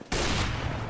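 Loud, dense gunfire from the video game CS:GO erupts after a brief quiet start and keeps going as a sustained burst of overlapping shots.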